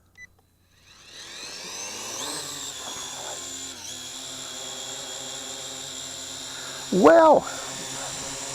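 A Syma X8 Pro GPS quadcopter drone spins up its motors into a rising whine and settles into a steady buzzing hover close by, with a short spoken word near the end.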